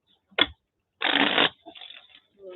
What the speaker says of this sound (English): I get very focused on shuffling my cards